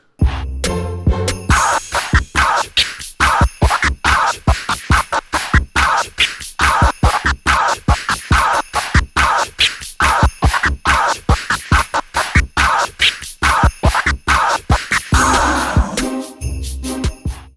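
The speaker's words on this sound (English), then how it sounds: "I like to go over the actual scratch pattern as well at the end, which sounds just like this" Rapid turntable scratches cut back and forth over a beat, dense rhythmic zips and stutters repeating across a two-bar pattern.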